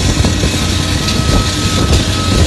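A steady, broadband roar of aircraft engines as an airplane lands in strong wind at Barcelona airport blends with heavy gusting wind buffeting the microphone, constant and loud throughout with no voices.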